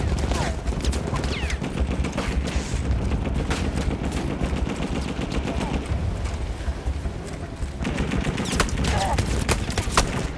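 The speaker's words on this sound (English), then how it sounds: "Alright, machine gun time!" Sustained machine gun fire in the video game Seven Pillars of Wisdom, rapid dense bursts of shots with a few brief pauses, loud and close throughout.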